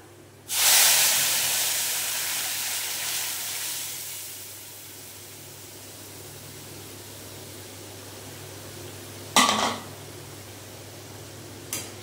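Lentils for sambar dal drop into a hot pan with a sudden loud hiss that fades slowly over several seconds into a steady soft sizzle, followed by a brief clatter.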